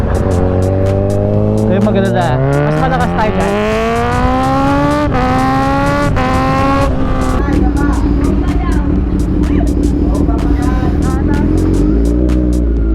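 Fast vehicles roar along an expressway, a loud, close engine drone climbing and settling in pitch as traffic speeds by, with someone speaking briefly over it.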